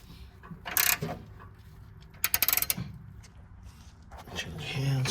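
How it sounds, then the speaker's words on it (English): Socket wrench ratcheting on a shock absorber bolt of a 1963 Lincoln Continental: a short burst of quick metallic clicks close by, with scattered tool clatter before and after and a voice talking. "I'll have to get a different socket wrench for that"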